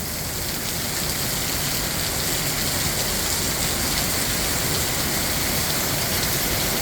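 Steady downpour in a park, with thick, constant rain noise of drops hitting the ground nearby, loud and even from start to finish and no one speaking.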